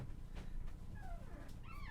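A dog stuck inside a duvet on a bed, whimpering with a few thin, rising whines that come close and soft over a low rustling background.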